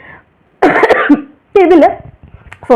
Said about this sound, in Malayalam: ഇടക്ക് ചുമ വരുന്നുണ്ട്.